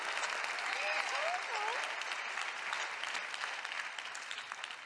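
An audience applauds with sustained, dense clapping throughout, while a voice talks faintly underneath.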